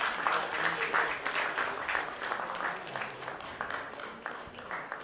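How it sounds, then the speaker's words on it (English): A conference audience at a procurement leaders summit applauds, a dense steady wash of many hands clapping at moderate distance, with speech mixed underneath. "Let's give our gentlemen a huge,"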